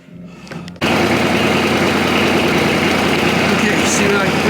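A John Deere 2305 compact tractor engine starts after a brief cranking moment, then settles into a loud, steady close-up idle running continuously to the end.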